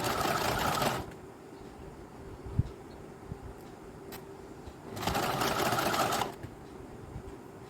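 A sewing machine stitches a narrow strip on a princess-cut deep-neck blouse in two loud, steady bursts of about a second each, with quiet handling noise and faint clicks between them.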